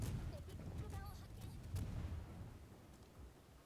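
A torpedo strikes a warship in the naval combat game World of Warships, a deep rumbling boom with a muffled low-end roar that swells, then fades over a few seconds, with scattered game noises on top.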